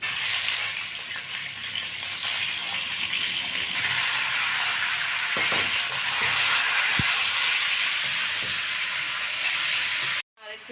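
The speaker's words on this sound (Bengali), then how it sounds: "এবার চিকেনগুলো ভেজে নেব।" Chicken pieces frying in a pan (kadai) make a dense, continuous hiss and sizzle throughout, with a few faint clinks, ending in a sudden short drop.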